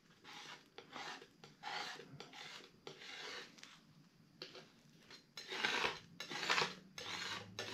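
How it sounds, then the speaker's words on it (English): A Holbein MX palette knife scraping and rasping paint across a palette, in a series of close, rhythmic strokes with short pauses between them and louder scrapes toward the end, with no voices present. "The knife is extremely efficient at cleaning the palette."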